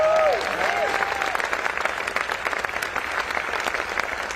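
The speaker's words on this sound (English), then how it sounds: "Can you give a round of applause for that?" Audience applause at a political speech by a senator at a Biden conference in Belen, New Mexico: dense, steady clapping from a large crowd throughout, moderately loud with faint voices mixed in.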